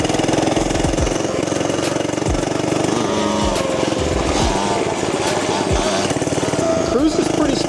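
A small FRP GMB100 mini bike engine drones steadily while riding, loud and close throughout, with a constant buzzing motor and rough wind-like noise.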